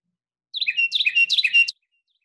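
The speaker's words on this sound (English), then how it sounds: "this is our little friend, the Carolina wren, very vocal, very loud bird." A Carolina wren delivers one loud, bright burst of song, a quick run of repeated rolling phrases lasting just over a second, close and clear against silence.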